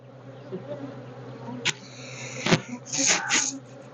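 Bees buzz around a hive close by, their droning rising and falling as individual insects pass near, with a few soft thumps.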